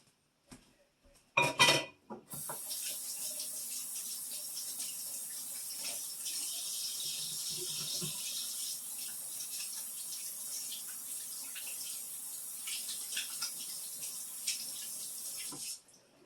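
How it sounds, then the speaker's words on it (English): Kitchen tap water runs steadily into a sink for hand washing, a continuous hiss lasting over ten seconds after a few brief clatters, then cutting off sharply. "Wash my hands."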